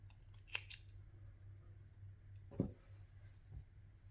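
Scissors snip crochet yarn close to the work on a striped crochet crop top, with two short, crisp cuts a couple of seconds apart against a quiet background.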